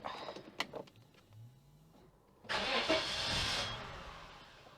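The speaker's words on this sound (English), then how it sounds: "It starts and then cuts out, and then starts and then cuts out." A 1990 Audi 100 Avant engine cranking and catching, first faltering with clicks and a whine, then firing up into a close, steady idle that sounds set to cut out.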